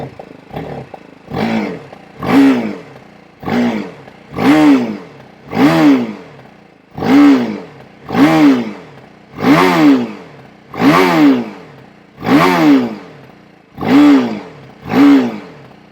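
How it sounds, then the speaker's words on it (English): BMW G310 GS BS6 adventure motorcycle with its exhaust note being revved, about a dozen sharp blips rising and falling in a regular rhythm, loud and close with nothing else over it. "Let's listen to the exhaust note and you'll realize the grunt I'm talking about"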